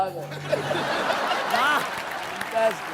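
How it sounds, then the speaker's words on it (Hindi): A TV comedy show studio audience claps for Dharmesh amid chuckles and laughter, with talk and vocal sounds layered over a moderate, continuous patter of applause. "जोरदार तालियां धर्मेश के लिए।"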